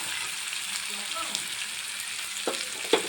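Vermicelli and carrot fry in a pan, giving a constant close hiss of sizzling oil broken by a few light scrapes and taps of a spatula.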